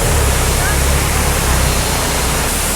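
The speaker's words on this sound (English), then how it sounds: "The water flows, not there, under the road" A stream in Puerto Galera pours under a road, giving a loud, steady broadband rush of flowing water that never lets up, close and constant throughout.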